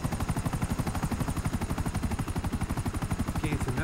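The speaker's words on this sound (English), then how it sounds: "Helicopter coming in. They're chasing us." A police helicopter in the GTA 5 Online video game gives a rapid, evenly pulsing rotor thump that runs loud and unbroken throughout, with no voices over it.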